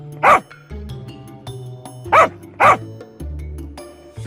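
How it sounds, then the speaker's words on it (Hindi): A cartoon dog barks three sharp times near the mic, spaced apart over background music in a Hindi animated story about a buffalo stuck in mud. "उसके गोल गोल घूमकर डम्बू भौंक रहा था।"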